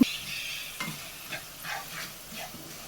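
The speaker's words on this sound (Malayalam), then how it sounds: "ഈ കടലമാവൊക്കെ ഒന്ന് മൂത്ത് കടലമാവിൻ്റെ ഒരു നല്ല മണം വരുന്നവരെ ഇത് നമുക്ക് ഇളക്കി വഴറ്റിയെടുക്കാം" A spoon stirs gram flour and potato masala in a hot pan, giving a soft sizzle broken by several scraping strokes at a steady pace, close and fairly quiet.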